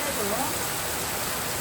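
Heavy rain pours down in a steady, loud, dense wash of noise that fills the whole short stretch, with a voice faintly heard over it at the start.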